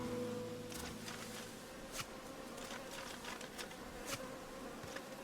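Bees buzz steadily around a beehive in the video game Ghost of a Tale, a close, continuous drone with a few brief clicks and rustles on top.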